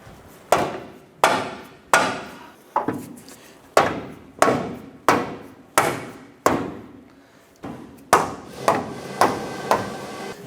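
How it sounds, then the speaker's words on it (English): A mallet pounds the front bushing of a front lower control arm into place on a 2008-2012 Honda Accord, about a dozen sharp, loud, close blows in a steady rhythm with brief ringing decays and no talk. "Let's go ahead and feed the front portion in first. And use our mallet here."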